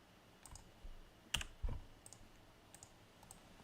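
Several sharp clicks sound on a computer keyboard, spaced irregularly, close and quiet, with two louder taps in the middle.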